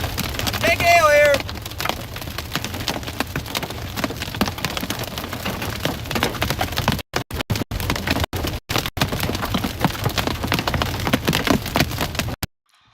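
Large hail pelting surfaces and a vehicle in a Midwest storm during tornado chasing, a dense continuous clatter of impacts with brief dropouts, with voices talking over it near the start.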